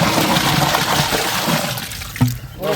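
Water being poured into a large pot for a 30 kg batch of biryani, a brief splashing, gurgling pour that ends with a sharp splash, with no talk over it.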